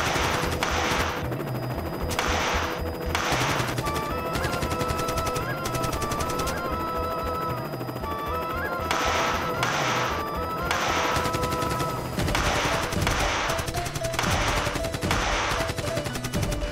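Sustained machine gun fire in a Marathi TV war drama, dense rapid bursts of automatic shots rattling continuously and loudly, with no talking.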